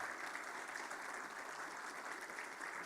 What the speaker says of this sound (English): So let's give all of your faculty and admin a round of applause.